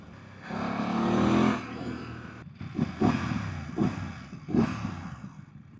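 A 2024 BMW F 900 GS adventure motorcycle engine revs and rides, a close swelling drone followed by choppy bursts of throttle with pops and burbles, no talk over it.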